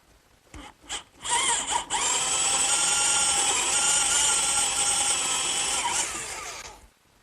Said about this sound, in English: Wherever possible, I'm going to counterbore for the washer and the nut.